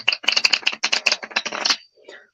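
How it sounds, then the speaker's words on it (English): A deck of playing cards is shuffled by hand at close range in a quick burst of dense riffling clicks, then goes quiet, with a short faint sound at the end. "Alright, I'm going to shuffle the cards."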